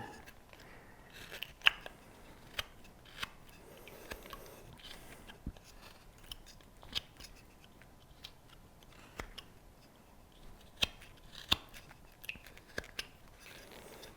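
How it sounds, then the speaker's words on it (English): A carving knife cuts a crease into the hat of a small hand-carved wooden figure, making quiet, sparse scraping clicks and short nicks spread irregularly across a hushed background. "Now I'm going to put a cut right here and start putting a crease in the hat"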